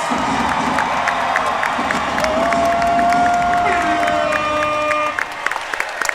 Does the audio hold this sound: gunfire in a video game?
no